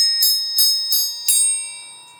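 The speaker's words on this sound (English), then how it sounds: "For the next line of the song, we're going to use the triangle, and it looks like this." A triangle is struck four times in a steady rhythm in a music-and-movement lesson, each bright, ringing metallic hit sustaining and overlapping the next before fading out, loud and close with no voices.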